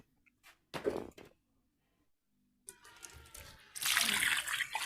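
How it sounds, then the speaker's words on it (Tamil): A tap runs water into a drum, with a few brief splashes and knocks first, then a gap, then a rising gush of flowing water that grows louder at close range. "ஸோ ட்ரம்மெல்லாம் க்ளீன் பண்ணிவிட்டு தண்ணி பிடிக்கணும்."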